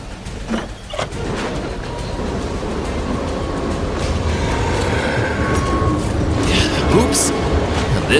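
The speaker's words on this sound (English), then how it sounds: "Luckily I can drive trains." A video game train rumbles along with a continuous mechanical roar that slowly builds, with rattling and faint screeching on top.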